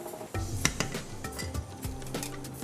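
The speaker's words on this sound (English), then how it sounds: "So you see it's frying off really nicely." Utensils scrape and clink against a pan as spices are stirred for rogan josh, with a light sizzle of frying underneath.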